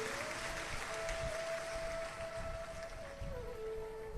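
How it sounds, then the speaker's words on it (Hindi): Sustained applause from a large crowd gathered outdoors for a Shiv Mahapuran religious discourse in Madhepura, Bihar, a steady patter with a thin held tone running beneath it. "एक बार यजमान परिवार के लिए जोरदार ताली बजाकर स्वागत, वंदन, अभिनंदन"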